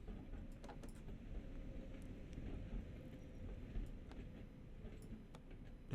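A train passes in Train Sim World on the German Ruhr-Sieg Nord line, a faint continuous low rumble with light clicking of wheels on track.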